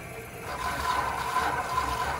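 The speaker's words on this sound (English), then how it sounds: "You can hear the water flow" Water flows steadily through a GE reverse osmosis filter system, a soft continuous hiss and trickle rising over the first moment and then holding even and fairly quiet.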